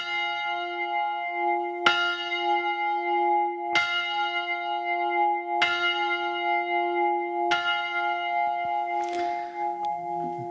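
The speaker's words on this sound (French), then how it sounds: "ce son de cloche dans ces chais des cognacs Gros Perrin à Saintes." A bell rings in the cognac cellars of Gros Perrin in Saintes, four evenly spaced resonant strikes about two seconds apart, each leaving a long ringing hum, followed by a faint rustle.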